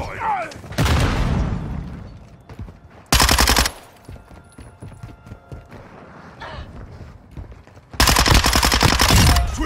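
Machine gun fire in Call of Duty Modern Warfare 2 comes in loud rapid bursts, one early, one short burst mid-clip and a sustained one at the end, with voices and game chatter between them.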